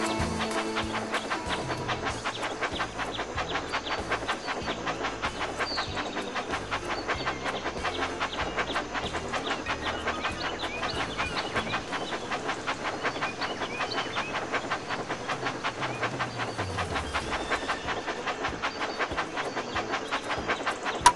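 A train engine runs along tracks in the Thomas and Friends: Magical Tracks video game, a steady chuffing and clickety-clack rhythm that continues evenly at moderate volume, with no talking.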